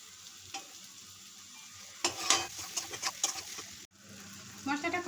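Masala paste for a Bengali duck egg korma fries in a pan, mostly a low, quiet sizzle broken by a few loud bursts of stirring and scraping up close.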